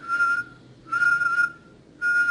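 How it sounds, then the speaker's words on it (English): A single person whistles a steady, sustained tone in three clear bursts separated by short pauses, close and fairly loud with no talking. "you'll know that you're whistling because it'll feel different from blowing"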